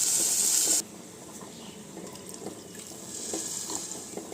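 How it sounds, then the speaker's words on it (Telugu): Water poured into a pressure cooker with dal, a loud hissing stream for under a second that stops abruptly, leaving quiet room sound with faint clinks. "వాటర్ పోసి కుక్కర్ మూత పెట్టి మూడు విధులు రానిద్దాం"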